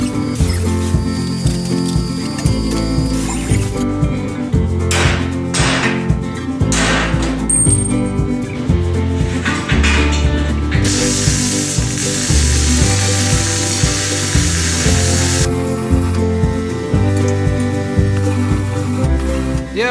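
Welding on a steel utility trailer frame, a steady, loud crackling sizzle that runs continuously and close up throughout, with dense popping texture and no talk.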